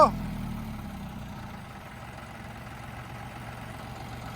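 A tractor engine strains to pull a stuck 16-foot trailer through wet mud on a farm, a steady low rumble after a brief louder burst at the start, with no talk over it.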